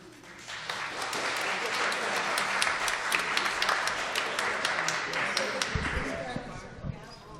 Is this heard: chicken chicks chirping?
no